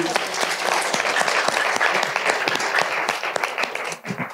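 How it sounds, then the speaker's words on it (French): Audience applause at a career-ambassadors youth event in Bordeaux: dense, steady clapping from a room full of people that holds for several seconds before thinning out at the end. "peut-être on peut applaudir les intervenants"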